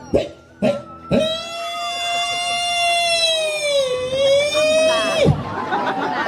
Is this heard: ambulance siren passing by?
yes